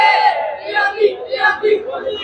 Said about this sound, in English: there's the pregame cheer.